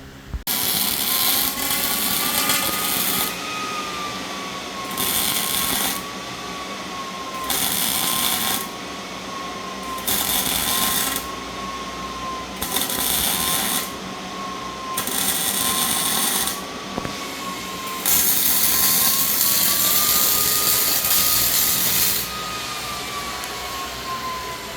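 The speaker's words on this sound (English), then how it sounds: "we'll finish welding all this other crap up" MIG-style welding on a steel bumper being fabricated for a Toyota 4Runner: loud crackling buzz in repeated bursts of a few seconds each, separated by short pauses, close to the work.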